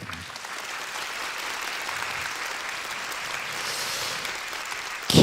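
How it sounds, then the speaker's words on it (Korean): An audience applauds at a book concert held at a library, with sustained even clapping from a crowd that swells slightly toward the end. "박수 부탁드립니다."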